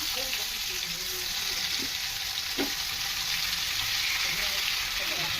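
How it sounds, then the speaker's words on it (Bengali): Pieces of rohu fish fry in hot oil in a pan, giving a loud, steady, even sizzle that runs throughout, with a couple of faint knocks underneath. "মাছটা ভেজে নেবো, আগে তেল দিই। মাছগুলো এক এক করে ভেজে নেবো।"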